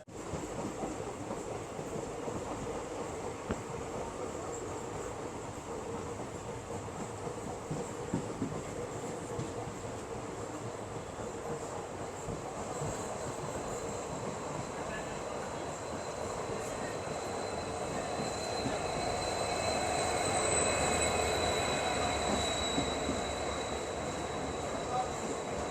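Delhi-Bikaner Intercity Express rumbling steadily along the rails, a continuous broadband roll with a faint high whine, swelling slightly louder near the end and heard from inside the carriage.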